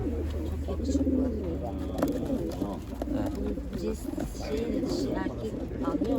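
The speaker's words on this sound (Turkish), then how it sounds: "Sakarya temsilen kostümlü güvercin değil mi?" Pigeon cooing from costume pigeons at a costume pigeon festival, soft repeated coos under steady nearby talk and crowd noise throughout.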